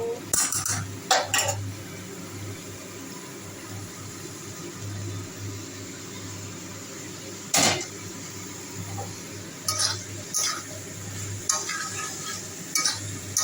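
Metal utensils clatter and scrape against a pan while spices with Kashmiri chili are stirred and fried, a steady sizzle underneath with a few sharper clinks spaced through the stretch.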